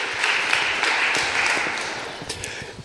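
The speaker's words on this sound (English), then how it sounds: "a warm welcome and applause for Andreas and Eurotopics" Audience applause at a re:publica 2019 conference session welcoming a presenter from Eurotopics, a steady wash of many hands clapping that holds at even loudness and then begins to taper slightly near the end.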